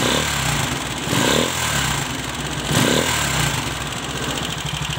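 Viar three-wheeled motorcycle with its engine running loud and steady up close, the throttle blipped in several surges that swell and fall back over a constant mechanical drone.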